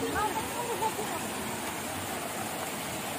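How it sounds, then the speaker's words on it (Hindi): The Chayandi waterfall at Rampur in Palpa, Nepal, rushes as a steady broadband roar close by, with voices talking over it briefly at the start. "यो रामपुर को झरना हो साह्रे राम्रो छ"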